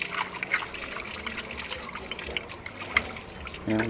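Water splashes and trickles steadily onto a stuck motorcycle brake caliper, a continuous wet pour with a brief clatter near the end.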